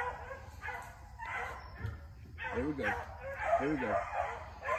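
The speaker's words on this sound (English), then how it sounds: "Let's see what the dog is doing." Four-month-old beagle puppies bay and yip while trailing a rabbit at night, their barks coming in short bursts with a few higher whining cries, while someone talks over them.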